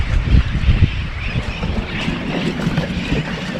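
Strong wind of about 15 to 20 roars and buffets the microphone continuously, with rumbling gusts and water noise around a boat at the Dry Tortugas.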